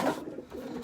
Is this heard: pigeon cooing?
yes